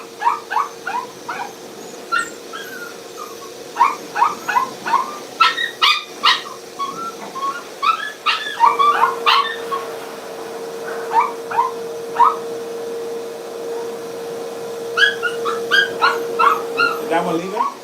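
A Yorkie whimpers and yips in repeated short bursts at a grooming spa, close and fairly loud, with a steady hum running underneath and no talking.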